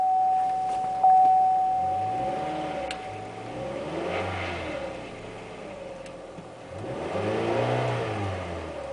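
A Chevy HHR engine with cam-crank correlation codes P0016 and P0017 runs close by, rising and falling through two slow rev swells over a steady mechanical drone, with a brief tone near the start and no talking.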